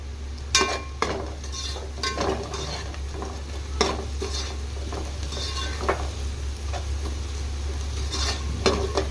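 Onions softening in a pan for Nellore-style fish curry, with soft sizzling and repeated sharp spatula scrapes and taps against the pan over a steady low hum.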